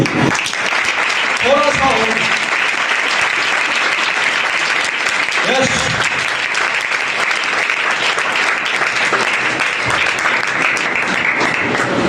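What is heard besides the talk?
congregation applauding loudly for Jesus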